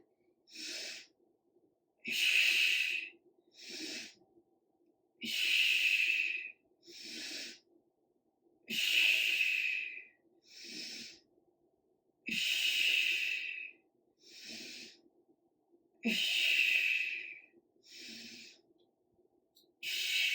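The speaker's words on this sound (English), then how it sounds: "Up, inhale, exhale. Inhale, exhale." Slow, rhythmic breathing during a back and chest home workout, alternating airy inhales and exhales about every second, close and clear with quiet gaps between breaths.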